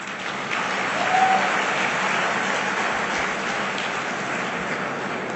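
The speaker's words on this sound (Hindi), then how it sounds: "अब तक के भाषण की सबसे कम तालियां बजी हैं।" An audience at a speech applauds in steady, even clapping that stays moderate and somewhat distant throughout, with a faint murmur underneath.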